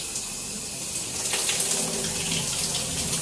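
Cold shower water running steadily, a loud broadband hiss of spray that swells slightly about halfway through, with no voices.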